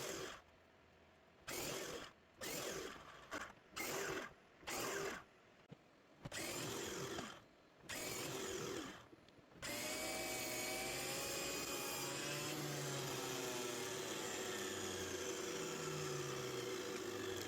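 Miter saw set to 11.25 degrees cutting angled, tapered wooden bucket staves: a series of short loud saw bursts separated by brief gaps, followed by a sustained motor whine as the blade runs on.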